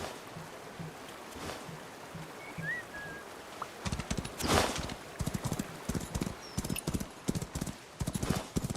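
Horse hooves clip-clop steadily in a video game, a regular trotting beat that starts after a quieter stretch of ambient water-like noise and carries on clearly to the end.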